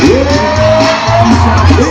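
Crowd at a live show in Cafarnaum, Bahia, shouting and cheering together in a loud, sustained roar with whoops rising over it, a steady dense mass of voices throughout.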